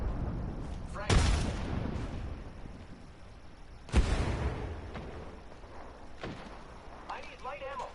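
A frag grenade explodes in the battle royale shooter Apex Legends, with two sharp, booming blasts a few seconds apart amid game noise, followed by quieter in-game effects.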